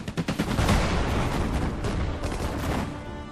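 Machine gun fire rattles in a World War II strategy battle in Hurtgen Forest, rapid repeated shots in loud close bursts that blur into a sustained clatter, with no talking.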